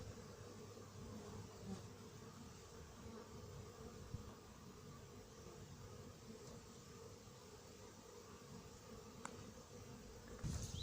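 Hornets hover in front of a beehive beside anti-hornet tents in Montgeron in September. Their soft, steady buzzing drones on quietly throughout, with a few faint clicks.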